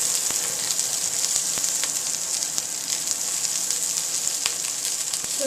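Ginger sizzles and fries steadily in a wok over medium heat during wok seasoning, a dense close hiss with small pops and crackles throughout and no talking.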